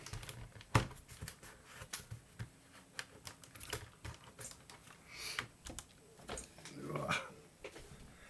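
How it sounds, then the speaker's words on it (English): A laptop keyboard is fitted back into a Compaq Armada M700 during a restoration, producing a close run of plastic clicks, taps and snaps with some shuffling handling noise and a brief murmur of voice. "Okay, we'll put the keyboard back in."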